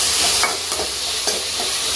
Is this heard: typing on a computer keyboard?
no